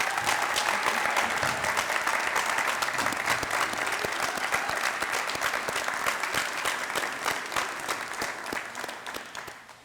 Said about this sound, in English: Gentlemen, stand up and let's give them a round of applause.